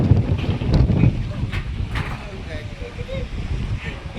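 Strong storm wind blowing through a village, a loud rough rumble of gusts buffeting the microphone, heaviest at the start and then easing into a steady roar, with a person talking over it.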